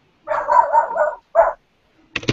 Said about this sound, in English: I was trying to mute myself because of the dog barking now